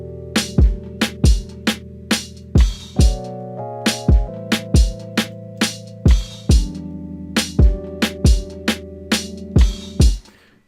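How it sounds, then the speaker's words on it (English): Hip hop beat built on acoustic guitar, with sharp percussive hits and sustained plucked guitar tones repeating in a steady loop, an open hi-hat sizzle ringing out among the hits, loud and close with no voices. "So the next thing we added was an open hi-hat"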